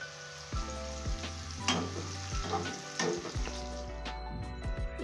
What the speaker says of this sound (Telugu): ఈ బెండకాయలు వేగినాయండి